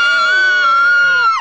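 A group of people screams together in a loud, sustained shriek during a TV chat show, holding one pitch before breaking off at the end.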